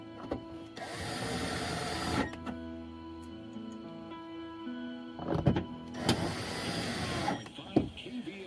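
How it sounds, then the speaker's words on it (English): A power screwdriver drives two screws back into a car speaker mount on a 2000 Chevy Silverado 1500, with two sustained motor whirs separated by a pause and some handling clatter, close up. "let's take our driver here and set these 2 screws back in here."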